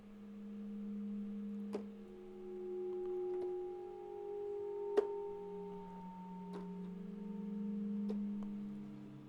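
Low notes from a weird space patch on a Logic EXS24 sampler, washed in reverb: sustained sliding tones with a few sharp clicks, eerie and spacey, steady and moderately quiet with no talking.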